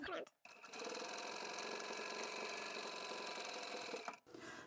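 A sewing machine stitches a fabric pot lid cover seam, backstitching and then running on in a fast, steady mechanical whir that lasts several seconds. It is close, with brief pauses at the start and the end.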